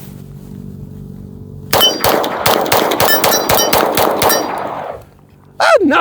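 A Ruger RXM sub-compact pistol fires about ten rapid, sharp shots at a small target. Close, loud reports ring with metallic clangs, then give way to quiet.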